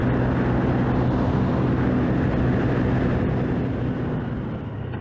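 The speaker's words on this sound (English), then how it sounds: "the wind noise in the helmet is just so overbearing" Steady, loud broadband roar of wind buffeting a motorcycle rider's helmet at freeway speed, continuous throughout with a low engine drone underneath and no talking.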